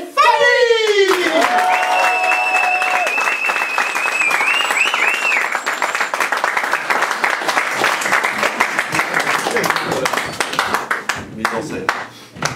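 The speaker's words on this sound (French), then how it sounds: "faites-moi du bruit, un maximum d'applaudissements pour monsieur Patrick" A comedy club audience in Avignon breaks into loud, sustained applause and cheering for the performers Fanny and Patrick. A voice calls out at the start, and dense clapping fills the room before thinning out at the close.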